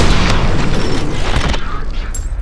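Shotgun fire in the first-person shooter F.E.A.R. comes as loud, heavy booms that roll into one another, with dense echoing tails filling the whole stretch.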